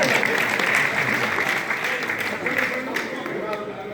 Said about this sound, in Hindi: अरे यार चित्तौड़ अब आने के लिए तो तालियां बजानी चाहिए।